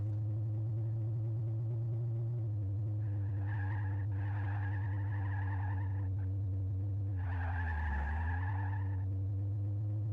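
A car in a racing video game skids and fishtails, its steady engine drone broken by two drawn-out tire squeals, the second sweeping down in pitch, with no voices.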